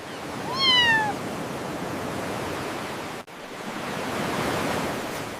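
A cartoon cat, Milo, gives one short rising-and-falling meow near the start, alone over steady beach ambience of surf and wind that carries on through the rest.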